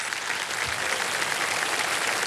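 Studio audience of a televised quiz show, KBC season 17, claps steadily for a departing contestant, a dense even wash of applause throughout.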